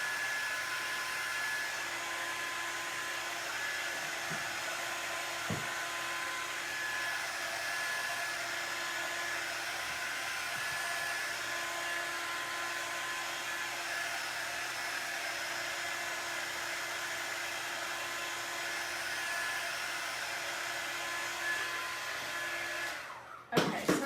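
A hair dryer blows on paint drying on a tea towel, a steady, even whirring roar that holds for over twenty seconds before a brief handling clatter at the end, with no talking.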